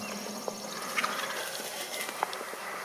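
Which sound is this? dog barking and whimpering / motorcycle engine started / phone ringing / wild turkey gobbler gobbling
wild turkey gobbler gobbling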